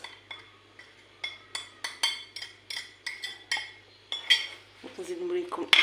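Ingredients being stirred and mixed in a dish with cumin, paprika, chili, tomato and a little onion: a string of sharp spoon-on-bowl clinks and scrapes at a steady rhythm, close and fairly loud, with brief rustling near the end.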